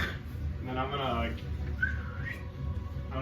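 A person whistles a few rising and falling notes to call horses, mimicking a horse-calling whistle at a tabletop role-playing game, close and clear over low room tone.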